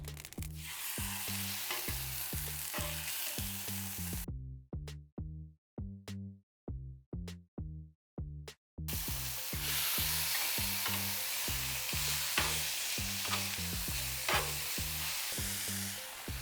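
Skirt steak cooked with avocado oil sizzles steadily on a grill, a loud continuous frying hiss that briefly drops out midway before resuming.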